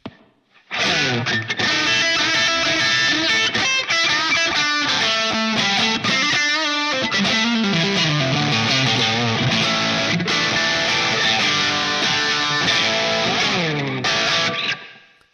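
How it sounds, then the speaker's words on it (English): An electric guitar through a Tube Screamer overdrive into a Line 6 Pod HD500 Brit P-45 amp model plays a continuous run of notes with warm, crunchy overdrive, loud and close, ringing out at the end. "now let's hear it with the tube screamer"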